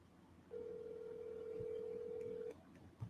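A single steady telephone tone lasts about two seconds while a number is dialed, faint and thin, with a soft click after it and no voices.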